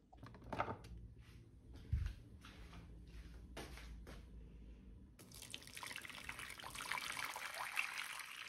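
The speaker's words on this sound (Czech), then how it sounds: "Čajíčky si zaliju" Water poured over three blackcurrant tea bags to brew tea for kombucha: a few soft drips and clinks at first, then a steady, close, splashing pour that fills the second half.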